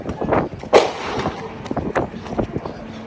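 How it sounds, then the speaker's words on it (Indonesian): Gunshots fired several times at a highway rest area during a car rental boss shooting, sharp cracks amid shouting voices and commotion, fairly loud and chaotic. "Suara letusan terdengar beberapa kali."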